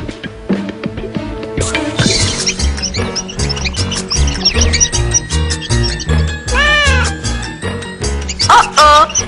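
A cartoon cat meows and yowls repeatedly over lively orchestral cartoon music, with squeaky mouse-like cries and bird-like chirps mixed in, loud and close.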